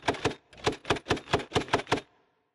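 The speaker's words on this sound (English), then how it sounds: "The mechanical layer for this sound was taken from a grenade launcher." Grenade launcher mechanical thunk layer for a Starfield cannon shot: a quick two-hit burst, then a run of six or seven evenly spaced sharp percussive thunks. Dry and close, with no talk.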